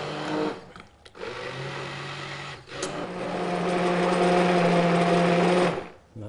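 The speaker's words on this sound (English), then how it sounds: "Stick blender, slow speed first." A steady electric whir of a stick blender on slow speed puréeing curried parsnip soup, running continuously with a brief dip and restart partway through, close and fairly loud.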